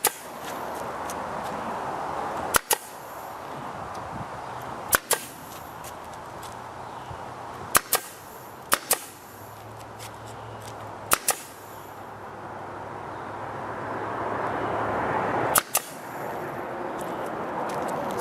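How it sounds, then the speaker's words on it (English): A pneumatic brad nail gun fires straight brads into wood while building a chicken tractor, sharp isolated snaps spaced a few seconds apart over a quiet outdoor background. "I use an air gun, just a brad nail gun"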